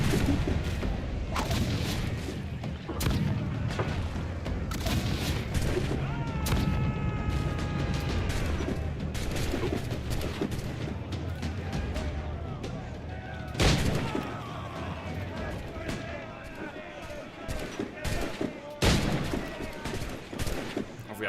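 Dense pistol gunfire in a pirate video game, rapid loud shots and booming bursts firing almost without pause throughout, with someone talking now and then over the shooting.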